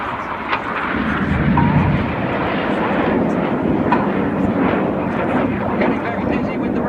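Red Arrows jets flying the twister manoeuvre at the 2015 Llandudno Air Show give off a loud, steady roar that fills the whole stretch without a break.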